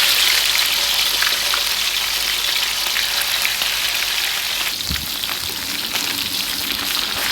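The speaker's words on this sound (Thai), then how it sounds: "ตั้งกระทะใส่น้ำมันลงไป มันร้อนแล้วก็นำปลาลงไปทอด" Dense, continuous crackling sizzle of mullet frying in hot oil, steady and close with no voices.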